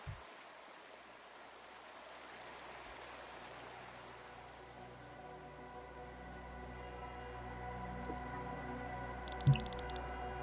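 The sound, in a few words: rain in city of Tormund, from video game Chained Echoes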